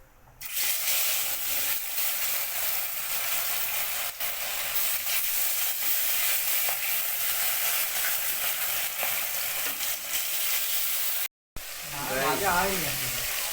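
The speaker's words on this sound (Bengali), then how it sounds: "মাছ ভাজা হচ্ছে।" Fish fries in hot oil in a wok with a strong, steady sizzle and hiss close by, broken by a short cut near the end, after which a voice speaks over the frying.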